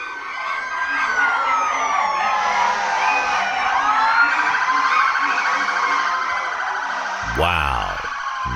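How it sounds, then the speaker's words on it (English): Fire engine sirens wail continuously at an airport hangar fire, loud and close, with sweeping rising and falling tones and a brief deeper horn blast near the end. "There are fire engines still hosing down the hangar"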